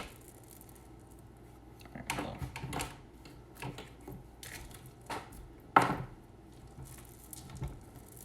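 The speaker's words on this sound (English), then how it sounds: "I think I added too much flour at once. So I'll just stir it for a little bit." Cookie dough, stiff from too much flour, is stirred in a bowl with soft scraping and thudding strokes, irregular and close, with a sharper knock partway through and no talking.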